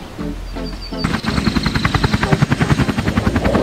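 A helicopter in the VR game BoneLab Fusion starts up and thumps with fast, loud, rhythmic rotor beats, close and steady after an opening mechanical whir.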